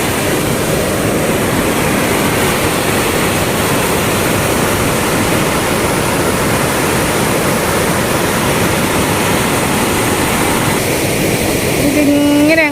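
Water cascades at Brindavan Gardens in Mysore as a loud, steady roar of falling and flowing water that fills the whole stretch, with faint talk beneath it.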